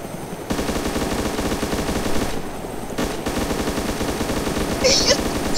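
Sustained rapid machine gun fire from a helicopter in the video game DayZ, a continuous loud rattling burst running nearly the whole time with a brief dip partway through.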